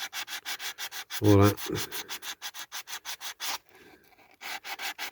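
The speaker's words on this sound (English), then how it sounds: "you can do it with sandpaper" Sandpaper rubbing by hand over the metal bonnet of a diecast MGA model: rapid, regular rasping strokes close up, broken by a brief louder scrape and a short pause.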